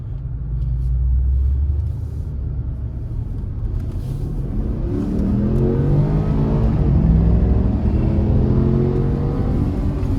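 A deep 4.8-litre V8 engine in a Porsche Cayenne rumbles loudly and builds as the car accelerates, the pitch sweeping upward in a strong, continuous roar.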